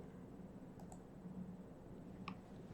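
Sparse, faint clicks of typing on a computer keyboard: a couple of quick keystrokes early and another near the end, over a quiet steady room hum.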